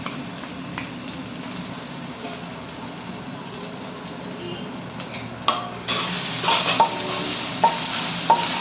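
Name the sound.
ginger garlic paste frying in hot oil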